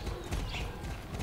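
Horse hooves clip-clop in a quick, even rhythm in the video game Star Stable Online, close and steady, with a faint whinny mixed in.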